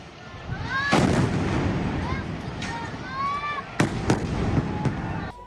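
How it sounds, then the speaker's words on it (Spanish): Rockets striking a city during an attack: sharp, loud blasts and cracks burst out at irregular intervals over a constant roar of background noise, several impacts clustered in the second half, with faint whistling tones between them. "los cohetes palestinos impactan la ciudad"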